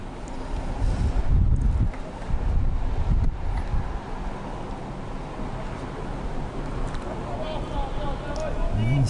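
Wind gusting across an outdoor bowls green during a ladies' triples match, buffeting the microphone with low rumbling noise, strongest in the first few seconds, then settling into a steady blustery rush.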